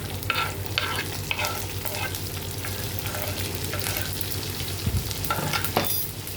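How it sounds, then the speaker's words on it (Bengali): Large chunks of capsicum and onion being stir-fried for chilli chicken: a soft, even sizzle broken by repeated spatula scrapes and tossing clatters, fairly quiet and close. "হালকা ফ্রাই করে নেব 2 মিনিটের মতো"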